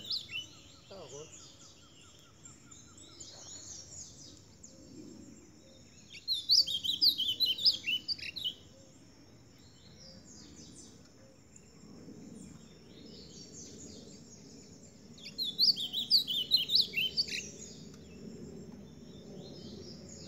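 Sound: pet songbirds chirping

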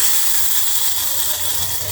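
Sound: tempering spices sizzling in hot oil

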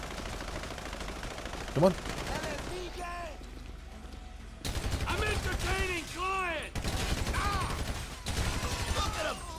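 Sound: gunfire in the video game Grand Theft Auto V

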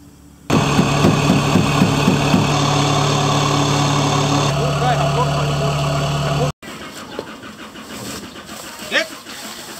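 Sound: rice harvester machine engine in Thailand

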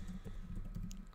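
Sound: pressing the C key on a computer keyboard

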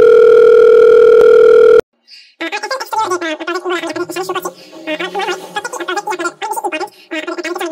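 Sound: telephone call tone in video game Farming Simulator 22

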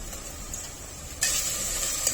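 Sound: onion and tomato frying in oil

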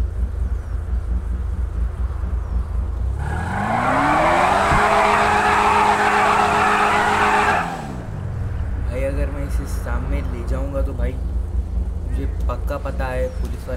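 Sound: Lamborghini Urus driving and skidding in video game GTA V

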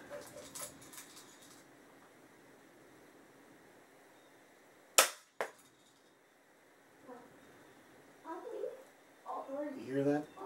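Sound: Daisy 99 Target Special BB gun shots

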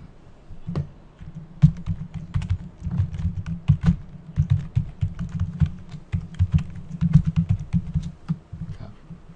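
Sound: typing a message on a keyboard

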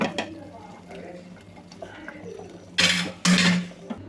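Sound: tempering poured into cooked mutton curry in pan

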